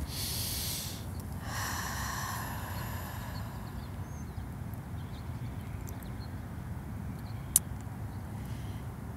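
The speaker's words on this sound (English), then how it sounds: "Let's just take a deep breath." A slow, deep breath drawn in and let out twice, soft and close, during a calm ASMR light activation session, followed by a quiet, steady hush.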